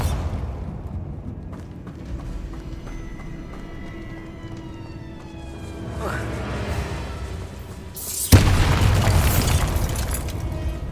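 A Bombarda spell explosion in the video game Hogwarts Legacy lands late with a sudden loud boom and crackling burst, after a stretch of quieter magical whooshes and chimes.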